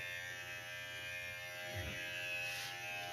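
Electric hair clippers shaving hair all the way down during a men's hair unit installation, a continuous close steady buzz with a slight shift in tone as the blades move through hair.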